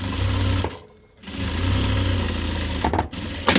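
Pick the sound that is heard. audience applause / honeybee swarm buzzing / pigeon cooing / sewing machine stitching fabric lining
sewing machine stitching fabric lining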